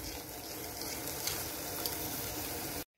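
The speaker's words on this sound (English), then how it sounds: "Put in your stuffing mix. And you're going to want to stir this." Stove Top stuffing mix being stirred in a pot on the stove, a steady close hiss of bubbling liquid with faint scraping, cut off abruptly near the end.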